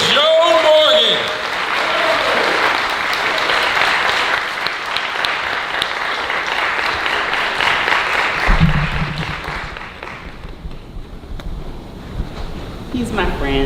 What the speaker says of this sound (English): I am now gonna ask you all to give a warm round of applause